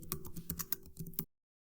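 Quick, uneven keystrokes clatter on a computer keyboard at close range for just over a second, then stop abruptly into silence.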